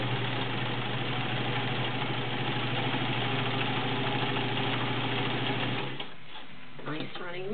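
A vintage White model 1665 heavy-duty 1.3-amp sewing machine stitches zigzag through a couple of layers of leather with a size 16 needle, making a steady fast mechanical whir and clatter, close and continuous for six seconds before stopping as a voice speaks.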